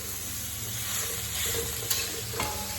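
Bitter gourd fries in a pan at home, producing a steady, fairly quiet hissing sizzle with a couple of light spatula clicks near the end and no voices.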